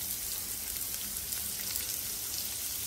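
Onion dropped into garlic frying in oil in a pan for bheja fry, giving a steady, even hiss and crackle of sizzling that stays constant and close, with no voices.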